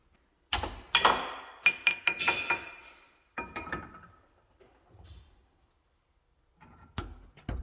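Threads are tapped into holes with a hand thread tap during a Sidewinder suspension repair, producing scattered sharp metallic clinks and taps in irregular bursts with quiet gaps between them, heard close.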